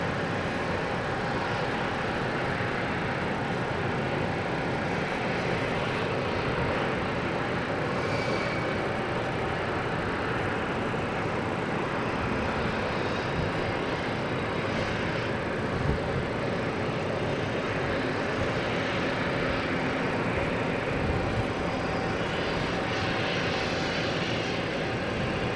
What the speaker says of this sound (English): next to arrive is a Delta coming in from Reagan